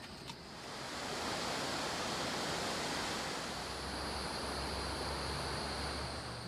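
A waterfall on a trail up Mount Malun in Taiwan, a steady broad rush of falling water that swells after the first second and then holds at an even, moderately close level with no voices.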